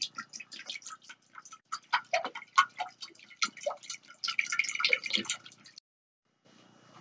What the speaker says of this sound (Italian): Andremo ad aggiungere l'acqua